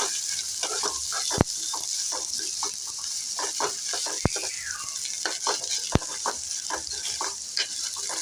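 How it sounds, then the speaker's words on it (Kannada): Onions frying in oil for an egg stir-fry, a steady hissing sizzle broken by repeated scraping stirs and a few sharp clacks of a spoon on the pan, close and clear, with a brief squeaky tone midway. "ಈರುಳ್ಳಿನ ಚೆನ್ನಾಗಿ ಬಾಡಿಸ್ಬೇಕು."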